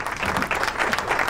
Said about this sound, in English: Give Kurt a round of applause for